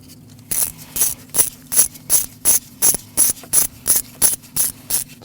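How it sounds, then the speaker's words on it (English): A ratchet wrench snugs a crankshaft position sensor bolt on a 2014-2023 Jeep Cherokee 2.4L four-cylinder, giving a steady series of about fourteen evenly spaced clicking strokes, close and crisp, with no talking. "Snug up your bolt and tighten that to 80 inch-pounds."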